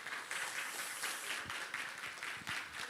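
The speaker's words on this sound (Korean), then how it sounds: "이 시간 우리 목사님 모실 때 우리 힘찬 박수로 함께 모시도록 하겠습니다." Church congregation at a revival service clapping to welcome a pastor, a sustained, fairly soft round of applause with a few sharper claps, heard from a distance.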